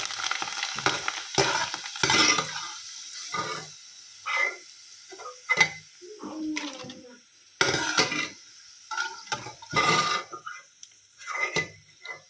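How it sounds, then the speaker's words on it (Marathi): Papad frying in hot oil, bursts of loud crackling sizzle that swell and fade repeatedly, with short gaps of near quiet between them. "इथं तळायचं काम चालू आहे माझं पापड."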